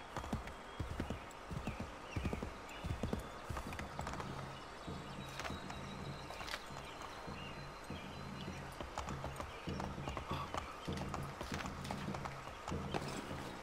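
Horse hooves in Assassin's Creed III Remastered clip-clop in a steady trotting rhythm, close and continuous, with faint background noise and no voices.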